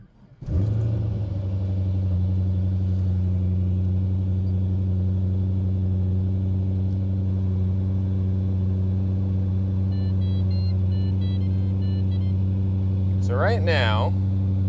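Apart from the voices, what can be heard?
Pontiac GTO engine starting and idling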